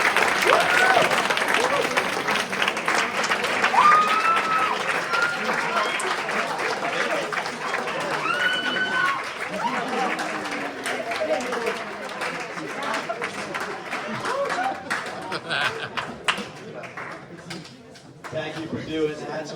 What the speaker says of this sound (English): give them a big old round of applause for all they do for you